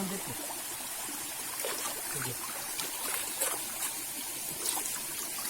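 A waterfall near Kasaragod flows with a faint, steady rushing and trickling of water, distant and low in level, with a few soft splashes and no clear talking.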